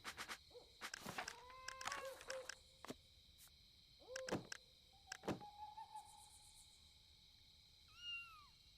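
Owl hoots in the video game Pentiment, a few short tonal calls scattered among sharp clicks and game effects over quiet background, fairly faint and spaced apart, with no talk.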